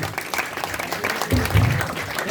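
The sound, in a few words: audience applause for gamelan musicians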